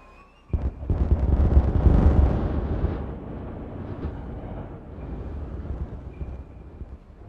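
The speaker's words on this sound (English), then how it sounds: "Now that was an explosion." Dynamite blast in the beaver city-building game Timberborn: a sudden deep boom followed by a rumbling roar that swells, then fades into a long crumbling tail.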